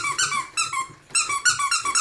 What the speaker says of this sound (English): You just want it when it squeaks?